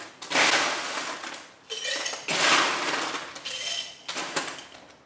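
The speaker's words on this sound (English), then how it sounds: "we're going to put ice into our mason jar" Ice cubes poured into a glass mason jar in four loud clattering bursts, each a cascade of sharp clinks and rattles that fades before the next scoop.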